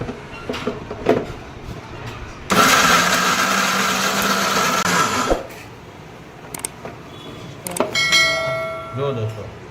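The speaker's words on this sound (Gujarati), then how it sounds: "હવે આપણે આને મિક્સરમાં પીસી લેવાની છે" A kitchen mixer grinder whirs loudly for about three seconds as it grinds warm pieces of bhakhri flatbread into crumbs for churma ladoo, with quieter clatter before and after.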